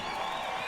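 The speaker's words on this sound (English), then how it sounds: "how about a round of applause one more time for this beautiful grand entry?" A brief, even wash of crowd applause for the grand entry at the 2018 Gathering of Nations powwow, heard from a distance.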